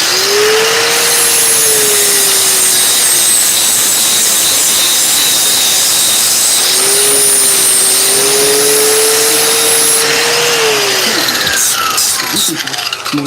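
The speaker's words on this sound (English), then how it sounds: "I'm gonna use a grinder real quick." An angle grinder trims a metal piece on the frame of an old Harley-Davidson XL 1200C Evo motorcycle, giving a loud, continuous high whine that rises and dips in pitch for about ten seconds before cutting off with a few rattling knocks.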